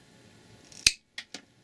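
Rigid LED strip being snipped into single segments, one crisp close cutter snap followed by two lighter, quicker clicks in quick succession, against near silence.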